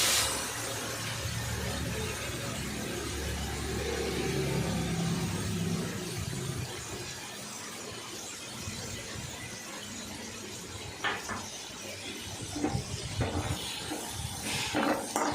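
Brahmi (vallarai) greens sautéed in hot oil for chutney give a steady, close frying hiss. Scattered crackles and pops sharpen toward the end, and no one talks.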